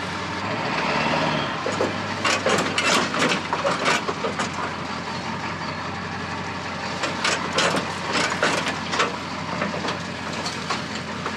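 A vehicle idles with a steady low engine drone while a test bump against its bumper produces a run of sharp knocks and crunching impacts, loud and close, with no talk.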